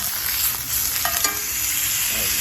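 Salmon searing in a cast iron pan to render out its fat, a loud, steady hiss of hot oil with small spatters and a brief scrape midway, no voices.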